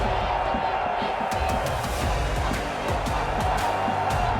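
A large stadium crowd roars at a big football match under bright lights, a dense, steady wall of cheering with rhythmic thumps running through it, loud and continuous throughout.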